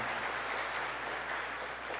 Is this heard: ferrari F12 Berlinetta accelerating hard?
no